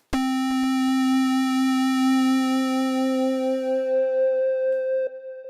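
A sustained, bright synthesizer tone holds steady with rich harmonics, then shifts to a higher pitch near the end like guitar feedback.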